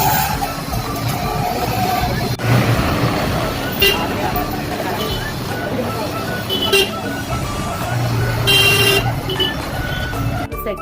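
A truck passing on a road near a temple, with traffic rumble, passing vehicles and occasional horn toots, loud and close, while people talk over it.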